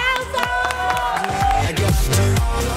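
A crowd applauds and cheers for a cake chef at a magazine's fourth-anniversary celebration, with loud, dense clapping mixed with shouts and voices close by.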